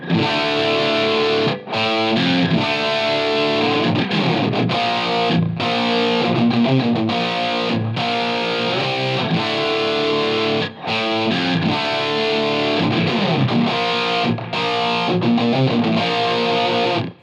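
Distorted electric guitar through a Line 6 Helix playing riffs, with a roomy, ambient tail from reverb and delay, loud and sustained with short breaks between phrases.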